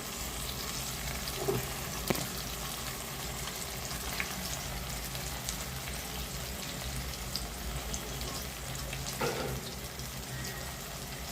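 Eggplant pieces frying in a pan with half-cooked onion and tomato for a spicy kuzhambu, giving a steady soft sizzle throughout with a few faint clinks and stirring knocks.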